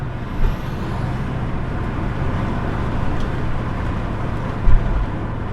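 Ford Falcon XD with a 4.9 V8 driving along, a steady low engine drone and road rumble from inside the cabin, fairly loud and even throughout, with a couple of brief bumps and no talk.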